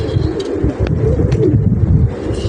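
Racing pigeons coo repeatedly at a club loft, a steady, close, continuous murmur of low throaty calls filling the whole stretch.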